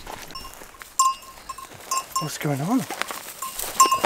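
Goats being led out of a depleted paddock into a fresh one bleat in several rising and falling calls amid rustling and scattered clatter, and a person speaks briefly.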